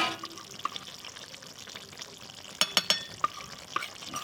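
Potato, pointed gourd and soybean curry boils in a pot in a home kitchen, giving a soft, steady simmering hiss broken by a few sharp bubbling pops and spits near the end.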